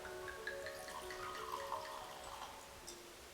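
Dry white wine being poured into a glass: a soft, continuous trickle whose pitch rises as the glass fills. The pour is heard alone and stays fairly quiet throughout.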